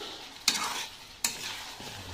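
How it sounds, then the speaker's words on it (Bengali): Chicken curry frying in a pan with a steady sizzle, broken by two sharp scraping stirs of the spoon against the metal, close and fairly loud, with no voices. "এবার আর একটু ভালো করে কষিয়ে নেব।"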